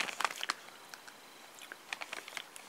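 A bag of crisps being handled as a snack with beer, irregular sharp crinkles and crunchy rustles in scattered bursts, fairly close and quiet, no voices.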